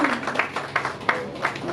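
Guests at a wedding clap in a short, uneven burst of hand claps lasting under two seconds, with a few louder claps standing out over soft room noise.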